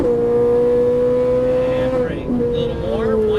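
A Ferrari 458 Italia engine revs hard under acceleration, a loud steady high-pitched tone that breaks briefly at a gear change and climbs again.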